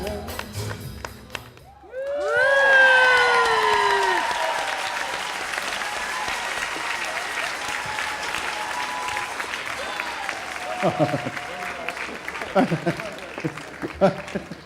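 Audience at the 2014 Easter Seals Ottawa Dancing With The Stars charity dance show bursts into loud applause with cheers and whistles after a dance number, sustained clapping filling the room with scattered voices.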